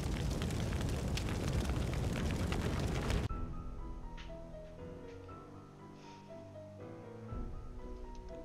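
A roaring blaze from the Nancy Drew: Message in a Haunted Mansion game fills the first three seconds with a loud, dense rush. It then cuts to a quiet musical score with faint crackles.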